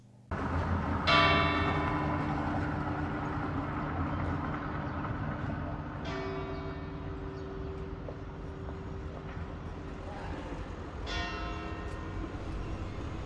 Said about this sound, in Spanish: De esta manera sonaban este mediodía las campanas de la catedral